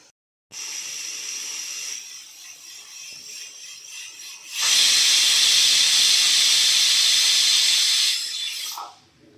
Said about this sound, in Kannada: ನೋಡಿ ಒಂದು ವಿಜಿಲ್ ಆಗಿದೆ